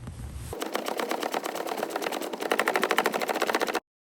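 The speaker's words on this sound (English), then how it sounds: "you're going to be ratcheting for quite some time" Ratchet wrench loosening 10mm bolts on a 2014-2020 Chevrolet Impala, a fast, steady train of close metallic clicks running for several seconds without pause, stopping abruptly at the end.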